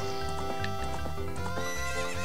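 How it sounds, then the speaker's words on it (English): A horse neighs in the video game Zelda: Ocarina of Time, a loud whinny sounding alone over steady game music, with clip-clop hoof sounds mixed in. "Where's my horse? I want my horse."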